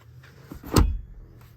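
A 2016 BMW X5 xDrive 50i locking, with a brief motor whir of windows closing and a soft thump near the middle, then quiet; close and fairly faint.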